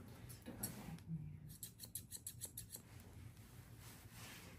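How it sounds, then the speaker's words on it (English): Blending shears snipping through a dog's coat during a teddy bear trim, a quick run of crisp, faint metallic clips close by, with quiet room noise between them. "I'm just scissoring on the lines I was scissoring on."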